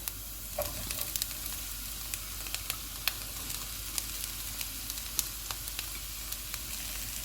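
Capsicum and cabbage fry in a pan with carrots for chicken BBQ rice, an even hissing sizzle dotted with sharp little pops and crackles at a steady pace, close and uninterrupted.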